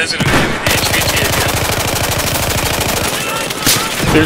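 Rapid automatic gunfire in Battlefield 4 on the Hainan Resort map, a steady loud burst of evenly spaced shots running nearly the whole stretch, close and dominant.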